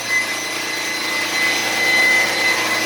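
Diesel car engine held steady at 3500 rpm during diesel particulate filter regeneration, a constant loud whining hum with a thin high tone, without any throttle changes.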